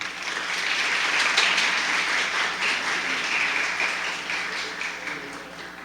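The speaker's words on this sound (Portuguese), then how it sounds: "Uma salva de palmas novamente." A conference audience applauds at the opening of the 17th Semana de Educação, Ciência e Tecnologia. The clapping is dense, steady and fairly loud, holding for about six seconds.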